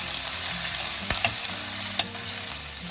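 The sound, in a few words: sautéing chopped coconut pieces in a pan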